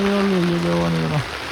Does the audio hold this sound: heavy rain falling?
yes